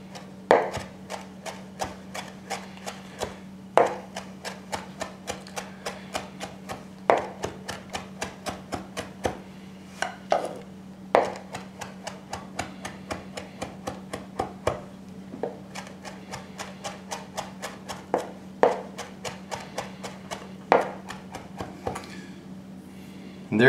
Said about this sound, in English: Rotate your knife through the pile of parsley.